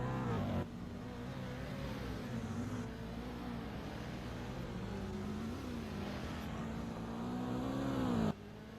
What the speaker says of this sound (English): I could start hearing Twin's engine now.